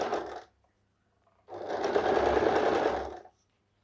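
A sewing machine stitching piping onto a kurti runs in two bursts, a short half-second whir, a pause of silence, then a steadier nearly two-second run of fast stitching, close and clear.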